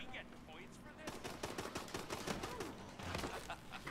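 Pistol gunfire in the Call of Duty Advanced Warfare Exo Zombies mode: a steady run of sharp, close shots over game noise, with players talking in between.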